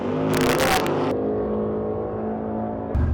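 A drag race car on street tires rumbles close by at low speed, with a steady engine drone, a short burst of higher-pitched noise early on, and a thump near the end.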